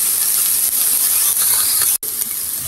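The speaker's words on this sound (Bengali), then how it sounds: "তেল দিয়ে এখন ভালো করে আমি পেঁয়াজটি ব্রাউন করে ভেজে নেব" Chopped onions browning in hot oil in a pan, a steady bright sizzle and hiss that runs continuously with a brief break near the end, close and alone.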